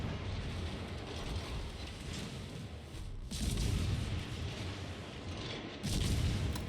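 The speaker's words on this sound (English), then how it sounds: "Looks like GK's got his secondaries onto me now." Secondary gun batteries firing at a ship in World of Warships, a continuous rumbling barrage of booms with two heavier surges, dense and loud throughout without speech.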